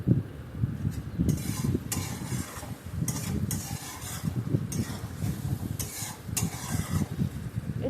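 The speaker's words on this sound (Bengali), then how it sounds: "কয়েক মিনিট আমি নাড়াচাড়া করে কষিয়ে নেব।" A spice paste with turmeric, cumin and salt is stir-fried in a pan for a fish dish, with repeated close scraping strokes of a spatula over a soft sizzle in an uneven rhythm.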